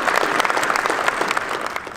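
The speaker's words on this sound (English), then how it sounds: "let's give them a round of applause." Sustained applause from an audience honoring wrestlers at a recognition award event, loud and dense clapping filling the room steadily without pause.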